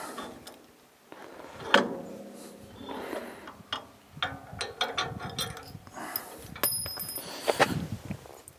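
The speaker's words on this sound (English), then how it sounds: "Dropped a washer." Sharp metallic clinks and rattles ring out as a metal washer falls among tractor parts while a Farmall Cub 54A's front plow is taken off, with several bright impacts scattered between quieter handling noises close by.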